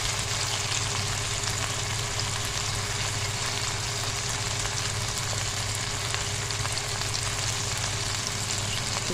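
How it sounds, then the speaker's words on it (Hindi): Tomato masala with yogurt for egg curry sizzles steadily in a pan, a dense, constant frying hiss close up with no breaks, a faint low hum underneath. "ये देखिए मसाला हमारा भुनने पे आ गया, ऑयल अलग होना शुरू हो गया"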